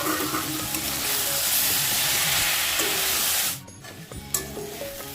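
Dried fish sizzling in a pan with cumin and coriander powder, a steady dense frying hiss that drops away sharply near the end, leaving quieter scattered crackles and a few clinks.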